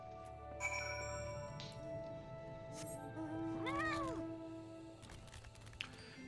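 Cat meowing in the video game Final Fantasy XIV: a clear, drawn-out meow rising and falling in the middle, with a shorter cat cry near the start, set against game music and light chimes.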